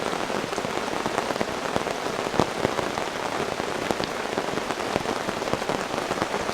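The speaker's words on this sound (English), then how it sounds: "guess we got a rainstorm." Heavy rain from a rainstorm drums steadily on a blue tarp sheltering a campsite, a dense, constant patter with sharper individual drops striking near the listener.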